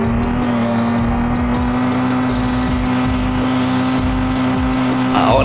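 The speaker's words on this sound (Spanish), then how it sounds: "podemos seguir acelerando a toda velocidad nuestro auto" A car in Flying Car Extreme Simulator accelerating at full speed, its synthetic engine holding a loud, steady drone throughout with a brief swell of noise at the very end.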